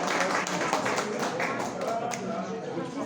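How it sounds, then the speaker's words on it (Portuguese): Audience applause for a speaker at a historical institute lecture, a dense steady wash of many hands clapping close and loud for the full three seconds, gradually thinning toward the end. "uma salva de palmas para o nosso palestrante"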